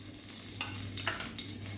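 Ghee sizzles in a hot kadhai while gajar halwa is being made, a steady close frying hiss with a few brief crackling bursts and no talk.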